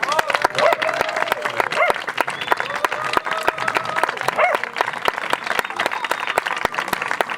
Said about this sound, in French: Et on peut les applaudir bien fort.